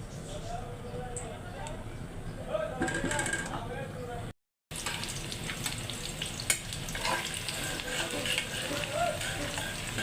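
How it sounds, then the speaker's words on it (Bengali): Lentils dry-roasting in a pan for a Bengali lunch, heard as a continuous close scraping and rattling stir with light sizzling, steady throughout apart from one brief dropout. "ডালগুলারে একদম শুকনা শুকনা বোনার মতো করব দুপুরের জন্যে"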